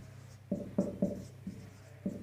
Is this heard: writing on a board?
yes